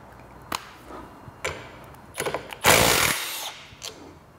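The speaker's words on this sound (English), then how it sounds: "In the interest of speeding things up, we'll just use a electric impact." Electric impact wrench on a Vespa GTV's upper shock mount nut: a few short clicks and taps, then a loud buzzing burst of hammering lasting under a second, followed by a faint tap.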